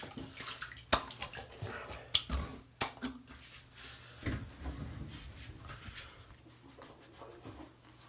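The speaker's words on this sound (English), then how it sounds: "So I'm just gonna rinse off the face" Water splashing as a face is rinsed after a shave at a barber shop, soft irregular splashes and dripping with occasional sharper clicks and knocks, close and fairly quiet.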